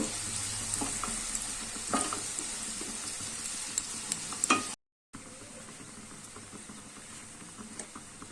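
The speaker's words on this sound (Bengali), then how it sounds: "ভালো করে আবার ভাজা করে নেব" A biryani spice mixture with chili and cumin powder fries and is stirred in a pan: a close, busy sizzle with spatula scrapes and pops, briefly cut to silence before a quieter frying hiss resumes.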